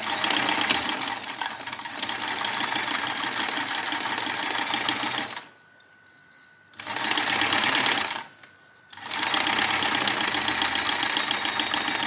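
Sewing machine hemming slippery fabric on a gothic dress runs in long steady whirring bursts separated by short pauses with small clicks, close and loud, with no talking.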